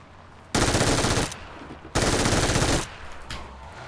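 MG3 machine gun at 990 rounds per minute firing in a video game: two loud, sustained bursts of rapid automatic fire, each under a second long, separated by a short pause with fading echo.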